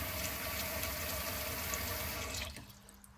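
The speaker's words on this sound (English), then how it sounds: "just give the fish a little rinse out" Fish being rinsed with water and vinegar, a close, steady run of water splashing that fades out at the end.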